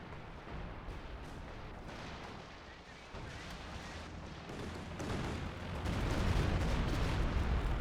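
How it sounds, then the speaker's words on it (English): Rocket artillery fires in a World War II real-time strategy game. Rapid booming volleys and gunfire build into a heavier, louder barrage near the end, with voices talking faintly beneath the battle noise. "Rocket artillery nearly stops it happening."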